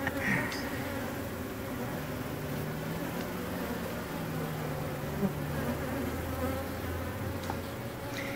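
Dense, steady buzzing of a honeybee colony in an abandoned house, many bees droning continuously and close by with no pause throughout.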